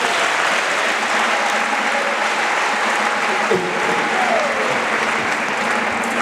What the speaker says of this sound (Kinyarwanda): nabwo mumumera amashyi.